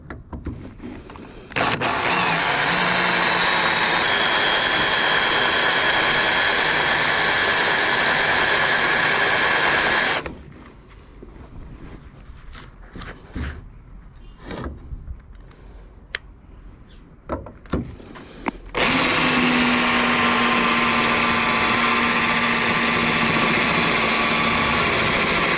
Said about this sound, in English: So let's drill it out.